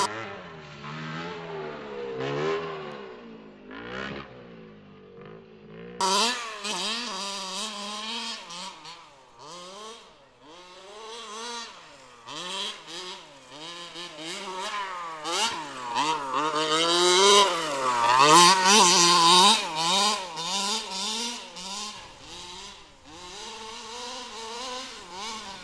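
An HPI Baja 5B gas-powered RC car buzzing and revving at a local RC track, its high, whiny engine note rising and falling repeatedly, sometimes near and loud, sometimes fading as it drives off.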